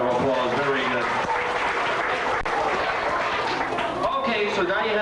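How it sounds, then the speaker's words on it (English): Applause at a children's fire safety show rises for a young volunteer playing the inspector, many hands clapping under excited children's voices and chatter at a loud, steady level. "Give the inspector a round of applause"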